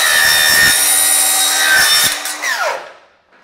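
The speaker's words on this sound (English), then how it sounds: "we're using a Diablo blade here to cut through this aluminum" A chop saw fitted with a Diablo blade cuts through an aluminum hand rail. The loud, close, high-pitched metallic whine lasts about two seconds, then the blade spins down and falls silent.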